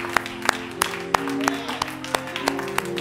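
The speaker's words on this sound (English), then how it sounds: "Give God a clap of praise this morning." A church congregation claps in praise at a Sunday morning service, a run of sharp, evenly spaced claps over a held organ chord and a murmuring crowd.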